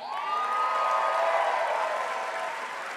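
The audience at a graduation ceremony applauds in a dense, steady wash of clapping with a few cheers and whoops mixed in, sustained throughout and moderately loud.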